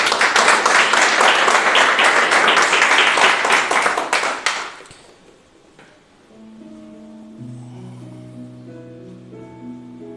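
A church congregation applauding, dense close clapping for about five seconds that fades out, followed by quiet sustained musical tones.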